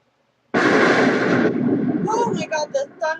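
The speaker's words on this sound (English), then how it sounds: "Oh my god, the thunder is scaring me." Thunder sound effect in an improvised story: a sudden loud rumbling crash lasting about a second, then a rolling roar that breaks into several short bursts, heard alone.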